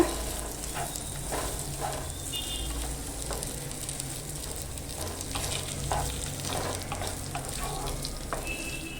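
Rice is sautéed in a pan for a sweet coconut rice dish, a steady sizzle broken by repeated scraping stirs of a spoon, close and even throughout.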